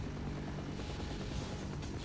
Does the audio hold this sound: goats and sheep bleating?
no